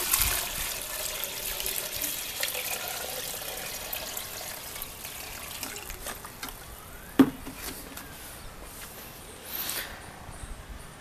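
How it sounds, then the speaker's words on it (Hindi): Water is poured into a container of chopped banana peels to make liquid fertilizer, a faint, soft splashing and trickling heard up close, with a single small knock partway through. "हम इसमें पानी मिक्स करेंगे"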